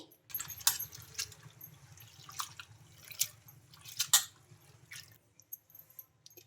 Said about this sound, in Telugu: ఇలా మొత్తం వాటర్ అంతా బాగా వంపేసుకొని